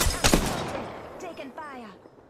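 Gunfire in Apex Legends, a sharp loud burst of shots near the start followed by scattered fainter reports and game sound effects, with voices in the background.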